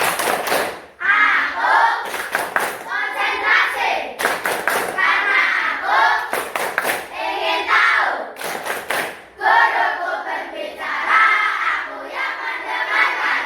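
Schoolchildren in a classroom perform a concentration clap: a chanted rhyme in unison punctuated by sharp, synchronized bursts of claps at set points, repeating in a loud rhythmic pattern.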